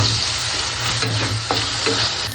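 Onions frying with ginger garlic paste for an egg masala, a steady close sizzle with soft stirring scrapes recurring throughout, no voices.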